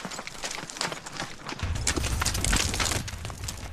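Horse hooves clip-clopping while being ridden toward the pyramids at Saqqara, Egypt, a run of close, sharp irregular hoof strikes that turns into a heavier low rumble partway through.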